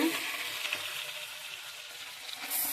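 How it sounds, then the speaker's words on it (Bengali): Steady hissing sizzle of fish frying in hot oil, close and continuous with no talking. "তেলের মধ্যে মাছগুলো দিয়ে দিচ্ছে এক এক করে"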